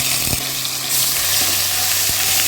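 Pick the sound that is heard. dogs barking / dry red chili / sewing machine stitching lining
dry red chili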